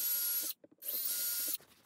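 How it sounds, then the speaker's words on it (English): A drill bores two holes in a board, two bright whirring bursts separated by a brief pause, close and fairly loud with faint knocks between. "Now I'll drill these 2 holes."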